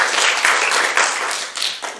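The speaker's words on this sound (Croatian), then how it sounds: "ajmo jedan aplauz za prinčeve" A short burst of applause for children playing princes at a live show, with close, dense clapping that fades toward the end.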